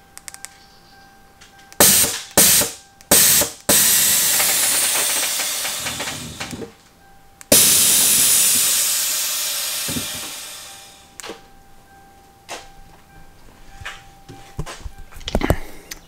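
Air hisses in loud bursts from leaking hose adapters on a Toyota Supra's air suspension management system, with short blasts early on, a long sustained hiss fading out, then scattered small clicks and taps.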